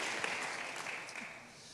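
A church congregation applauding, with steady, fairly faint clapping that holds evenly throughout and no clear voices over it.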